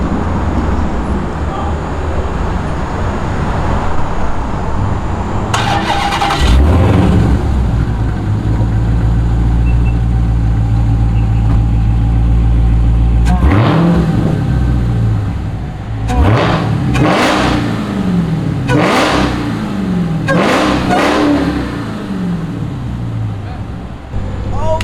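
A Dodge Hellcat with its mid muffler deleted roars to life and revs hard several times, loud close bursts rising and falling over a rumbling idle, with a voice briefly nearby.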